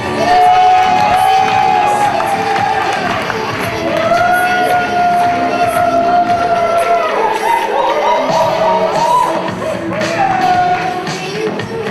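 Audience at a slam poetry contest cheers and applauds loudly, with sustained whoops and shouted calls ringing over a continuous bed of clapping.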